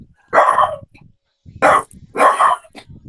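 A dog barks in three loud, close bursts separated by short pauses, the middle and last barks coming in quick succession, with little else around them.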